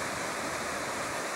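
Water rushes steadily from a waterfall at Tai Tam Reservoir after rain, a broad, even hiss of falling water heard close and continuous for a brief moment.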